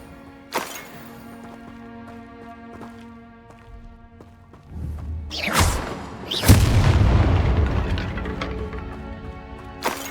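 Confringo explosive spell blasts in Hogwarts Legacy, a sharp crack followed by deep booming bursts that swell into a loud rumbling roar, amid sparse game sounds.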